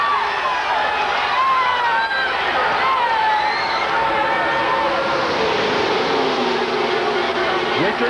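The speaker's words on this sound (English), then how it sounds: "listen to this crowd of" A NASCAR crowd of 170,000 roars in a continuous wash of cheering and noise, with a commentator talking over it and race car engines whining in the background.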